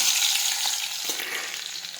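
Crushed garlic dropped into hot oil already tempered with mustard seeds and cumin, sizzling in a steady, bright hiss with faint crackles and a spoon stirring now and then, close and continuous with no voices.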